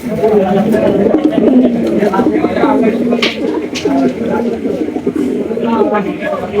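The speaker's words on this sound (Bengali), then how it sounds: "দেখতে পাচ্ছি চমৎকার একজোড়া শাটিন কবুতর" A pair of satin pigeons coo softly in repeated low, throaty phrases while a person talks over them.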